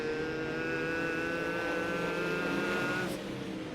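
Steel Block Late Model race cars circling Fairbury Speedway in a feature race, a steady loud engine drone with sustained harmonic whine throughout, easing slightly near the end.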